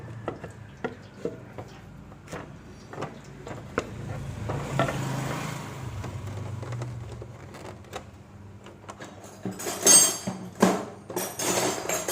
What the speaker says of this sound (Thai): ทีนี้เราก็ใช้ด้ามค้อนนี่กระทุ้งออก